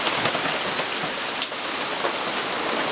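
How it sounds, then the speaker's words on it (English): Torrential rain hammers a sailboat at Port Stephens, a thick continuous wash of drops spattering on the deck, close and loud, with a few sharper splashes standing out from the roar. "So much rain! My goodness!"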